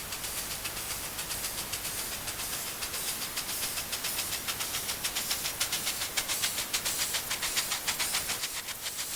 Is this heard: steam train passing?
yes